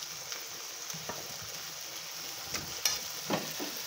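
Steady sizzling of chicken frying in a pan with dark soy sauce, with a few soft clinks and scrapes, close by and moderately loud, no voices.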